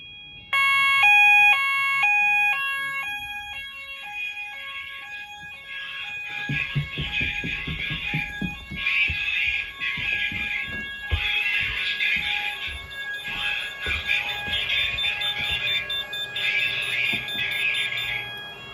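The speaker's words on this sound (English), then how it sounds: "There we go, full alarm." An addressable fire alarm system under test sounds: first alternating electronic beeps, then a continuous pulsing alarm tone repeating in loud bursts, with clattering noise underneath.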